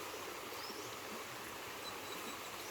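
A river flows with a steady, even rushing wash of water that stays constant throughout, heard alone with no voices.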